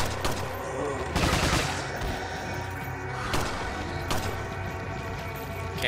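Gunfire in the video game Resident Evil 4 comes as dense, loud bursts of shots and impacts over a continuous game soundscape, with a few heavier blasts standing out.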